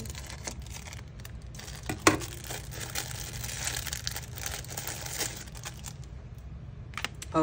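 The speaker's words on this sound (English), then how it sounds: "Cut this package open." A plastic package from a paper-crafting haul is cut open. Close crinkling and tearing goes on steadily for several seconds, with one sharp snip near the middle and a few rustles at the end.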